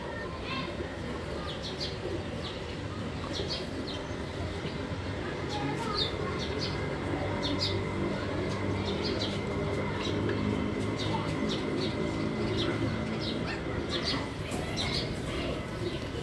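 Domestic pigeons cooing in a home loft, a soft steady murmur of coos with occasional chirps running throughout, fairly close with constant background noise.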